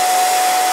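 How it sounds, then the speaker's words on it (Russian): A hair dryer switched on to heat a plate, a loud, steady whooshing roar of blown air with a fixed motor whine, close up and unbroken. "Берем фен, берем тарелку, да, включаем фен"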